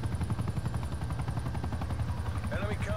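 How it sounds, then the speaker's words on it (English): Chopper gunner helicopter in Call of Duty Cold War, a thudding rotor drone with rapid rhythmic gunfire bursts, then brief whistling effects near the end. "Chopper gunner."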